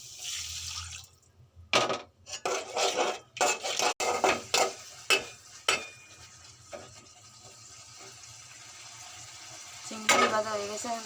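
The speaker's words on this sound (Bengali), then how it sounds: "চিংড়ি ভাজা হয়ে গেছে।" Shrimp fry in a pan with garlic paste, chili powder and a splash of water. A utensil stirs and scrapes, making clattering knocks against the pan over a continuous close sizzle that carries on steadily after the stirring stops.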